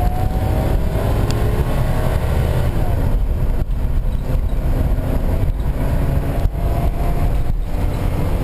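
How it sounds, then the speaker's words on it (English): Inside a 2005 Four Winds 24A Class C motorhome on a Ford chassis, the engine drones loudly and steadily as it accelerates, with heavy road and wind noise filling the cab throughout. "we're driving in the Four Winds, and I'm gonna give it some gas here and let you see how it goes."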